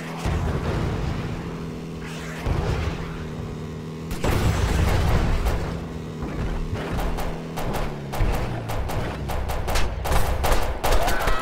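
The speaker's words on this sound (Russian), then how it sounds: "Он же опять ведь стреляет." Gunfire in a combat video game, with repeated sharp shots in clusters, heaviest toward the end, over a steady engine-like drone from vehicles such as a buggy and motorcycle.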